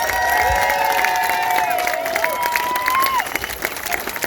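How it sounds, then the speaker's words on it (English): An audience applauds and cheers for the Raging Grannies, with steady, dense clapping from a nearby crowd and whoops over it. The clapping tapers off near the end. "Let's give another hand for the Raging Grannies"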